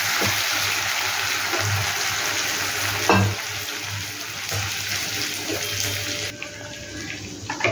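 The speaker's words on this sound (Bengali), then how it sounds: "এবারে বাটি ধুয়ে এটা কিছুটা জল লাগবে" Tap water runs into a bowl being rinsed at a kitchen sink, a steady splashing flow with a few clunks and knocks of the bowl, close and fairly loud, cutting off near the end.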